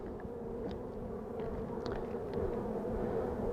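A close, steady hum of Saskatraz honey bees buzzing at a hive, a low droning swarm sound with occasional louder passes near the ear.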